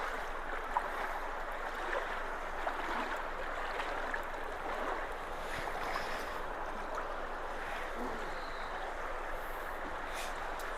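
Rushing water pours steadily through a culvert being unclogged, a continuous broad wash that holds at an even level throughout, close by and without talk.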